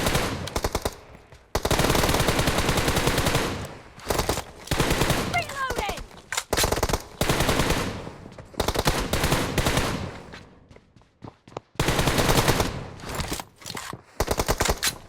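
Automatic gunfire in PUBG Mobile, loud close bursts of rapid shots repeating in several volleys separated by short pauses, with a voice speaking occasionally between them.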